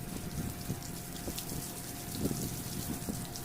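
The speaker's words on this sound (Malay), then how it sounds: "So filter ni pun sembuh-sembuh air je, tak payah nak guna sabun apa semua" Water spraying and splattering over air conditioner filters during a rinse, a continuous rushing flow broken by irregular splashes and drips nearby.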